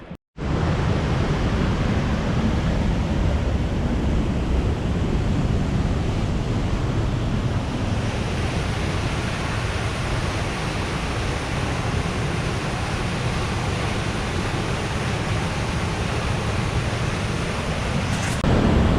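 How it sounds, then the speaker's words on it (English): Raging river rapids in high water roar beside a portage in the Boundary Waters wilderness, a loud, steady, broadband rush of churning water that stays close and continuous. "Giant hole in the woods. And raging rapids."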